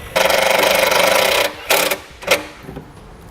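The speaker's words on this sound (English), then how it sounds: "I'm just going to go right into the sheet metal here" A nut driver drives a screw into the sheet metal of a 2018 Jeep JL: one sustained, close buzzing whir lasting over a second, followed by two or three short bursts as the screw seats.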